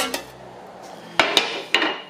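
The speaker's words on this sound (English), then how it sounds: "I've been hammering with this in the shallower part of the curve" Hand-built metal-shaping hammer striking a Willys car body panel on a shallow curve: three sharp metallic blows, the first two close together and the third after a short gap, ringing briefly over faint room noise.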